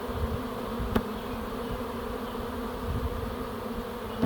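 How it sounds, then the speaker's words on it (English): A large prime swarm of honeybees buzzes steadily and densely throughout, a continuous close drone with no voices. "This swarm, judging by the size of it, is what we would call a prime swarm"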